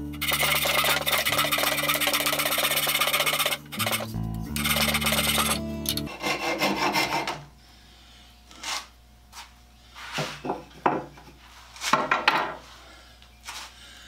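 A hand saw cutting through wheelbarrow handles, loud rasping strokes at first, then a quieter stretch of scattered scrapes and knocks as the cutting slows and stops.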